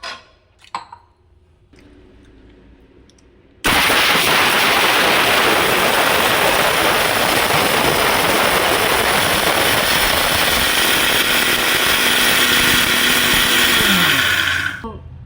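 A mixer grinder grinds parboiled rice into a coarse texture, a loud, steady whirring roar that kicks in abruptly after a few seconds of quiet handling noise and runs unbroken before cutting off at the end.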